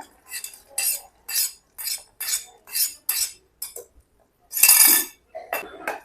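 Sweet pongal (sakkarai pongal) being stirred in a pressure cooker pot, a spoon scraping and clinking in a series of distinct strokes separated by brief pauses, fairly close and clear.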